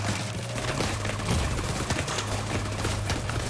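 Enemy gunfire in The Division 2, a dense, sustained fusillade of rapid shots crackling loudly and continuously over game noise, with no one speaking.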